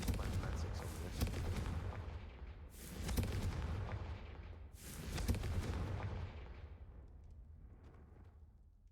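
Three heavy, booming fire-spell blasts from Confringo in the Hogwarts Legacy video game, each a rumbling explosion a couple of seconds apart and fading into a long reverberant tail.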